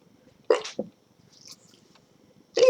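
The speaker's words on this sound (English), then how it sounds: "I'm going to sneeze" A person sneezes sharply and close by, one loud burst, and another similar burst comes right at the end, with near silence in between and nobody talking.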